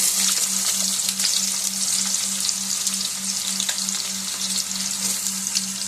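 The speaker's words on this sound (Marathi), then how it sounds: "आपला जिरा मस्त लाल झाला की कांदा टाकून घेऊया याच्यात." Onion and cumin seeds frying in a pan make a loud, steady, close-up sizzle with scattered crackles and faint stirring scrapes, accompanied by a low hum from the stove, with no talking.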